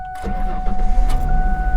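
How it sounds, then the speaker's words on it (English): A 2000 Ford Mustang SN95 V6 convertible starts up close by: a quick crank catches and settles into a steady, low engine rumble, with faint talk in the background. "first you start the car up"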